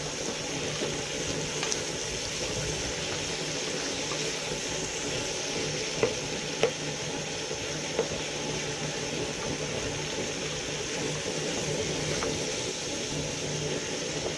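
Meat and onions frying in a pan give a continuous, even sizzle throughout, with a few faint clicks of utensils and no talking.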